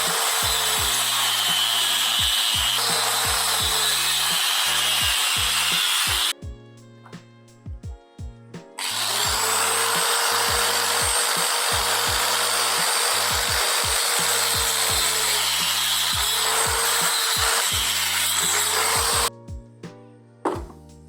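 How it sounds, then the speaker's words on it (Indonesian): An angle grinder fitted with an adapter as a mini circular saw cuts long plywood sheets. It whines loud and steady, stops twice for brief pauses with light knocks, then cuts on. "Jadi mini circular saw. Karena untuk motong triplek yang panjang-panjang itu nggak mungkin bisa kalau misalnya cuma pakai gerinda"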